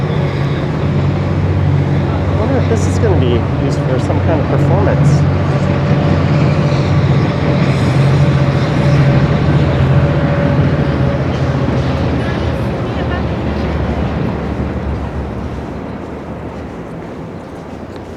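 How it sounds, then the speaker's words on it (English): A GO commuter train passing along a downtown Toronto rail corridor, a steady loud rumble holding throughout and easing toward the end, mixed with street noise, with a person talking over it. "there goes a GO train"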